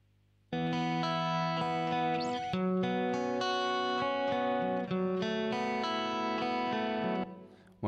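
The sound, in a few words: second reverb effect applied in Soundtrap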